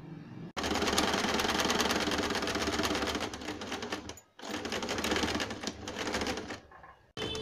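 A sewing machine runs in fast, steady bursts stitching the shoulder seam of a gown cut from an old saree, close up, pausing briefly once before starting again, with no talking.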